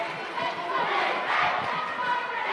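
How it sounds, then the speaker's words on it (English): A crowd at a New Zealand boys' water polo gold-medal final chants for Rangitoto, a dense, loud roar of massed voices that fills the space continuously. "And now Rangitoto, the chant go up from this crowd"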